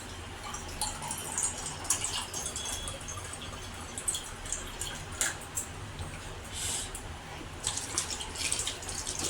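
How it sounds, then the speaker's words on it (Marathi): Water is poured into a cooking pan of spiced vajdi curry, a faint, steady, hissing splash that runs on for several seconds. "थोडं पाणी टाकते नॉर्मल"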